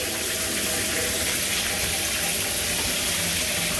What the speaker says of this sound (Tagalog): That's the new shower head.